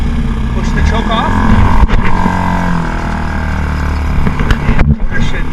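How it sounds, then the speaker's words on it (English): A small club boat's outboard motor starts and then runs, holding a loud, steady engine drone with a few surges while a person talks over it. "and the motor should now run."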